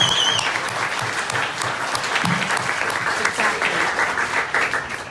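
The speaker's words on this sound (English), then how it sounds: "Yeah, you can clap for that." Warm audience applause fills a town hall event, a steady wash of many hands clapping at moderate distance for several seconds without pause.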